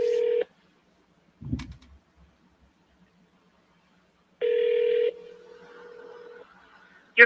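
Telephone keypad tones from a phone dialing out, a short steady beep, then a clear tone burst a few seconds later that blends into a lower held tone, with a faint handling bump in between and no talk.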